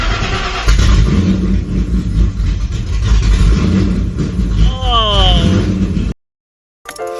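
A Ford Shelby GT500 running open headers cold-starts with a loud, raw engine roar that surges and revs, then rasps through a brief whining sweep before cutting out; voices are heard over it.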